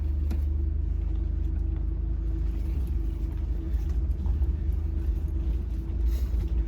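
Mazda Miata engine idling with its exhaust fallen off, a steady raspy, tinny drone that holds close and loud throughout with no talk over it.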